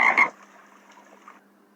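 A frog gives one loud, raspy croak at the start, followed by a faint low hum and a quiet trailing noise.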